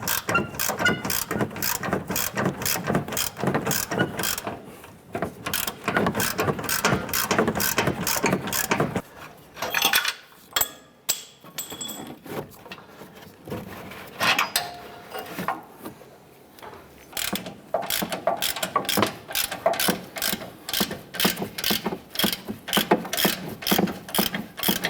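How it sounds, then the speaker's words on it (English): Ratchet cranking out a ball joint bolt on a 2011-2018 Ram 1500, steady rapid clicking strokes close up in long runs, broken by a short pause and a few metallic clinks before the ratcheting resumes. "we're going to switch over to our ratchet."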